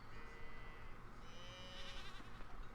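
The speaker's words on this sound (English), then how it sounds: "Right now we know Zortz is the goat because we only have one" Goat bleating in the farming video game Coral Island, a wavering, nasal bleat with rising harmonics that stays steady and moderately close over a low background hum.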